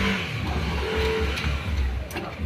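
A Yamaha Mio race-build scooter engine runs steadily at close range with a busy, rattling low drone, carrying a ticking noise from a cracked head, with no talk over it.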